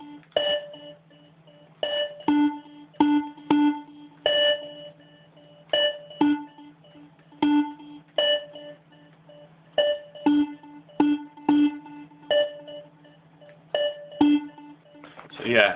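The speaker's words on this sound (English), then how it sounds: "You can get some really nice bleeps up." Short bleep-style synthesizer tones from a TAL BassLine repeat in a steady, bouncy pattern, each tone ringing briefly before the next, loud and clear with a low hum underneath.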